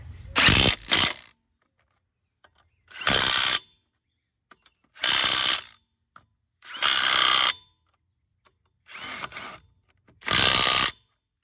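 Impact wrench tightening the lug nuts on an aluminum wheel of a 2002 Pontiac Grand Am, six loud close bursts of whirring and hammering separated by short silences, no talk.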